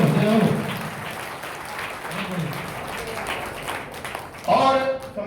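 An audience at a Hindi poetry recital (kavi sammelan) in Karnal, Haryana claps in a steady burst of crowd applause, with a voice speaking over it at the start and again near the end.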